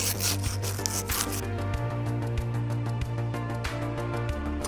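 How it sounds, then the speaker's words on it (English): Sandpaper rubbing rough edges off a part for a custom G3 airsoft rifle built as a Swedish AK4, a quick series of short repeated scraping strokes, close, with a steady hum underneath and no talk. "Now I'm going to take off some of the rough edges with some sandpaper."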